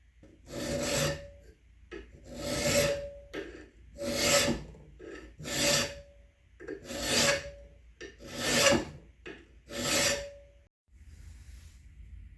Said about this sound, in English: At this point, I have most of the hand filing on the bolster done